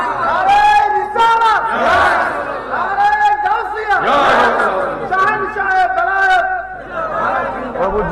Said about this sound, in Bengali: বাবা তকির জোরে একটা তাকবীর দাও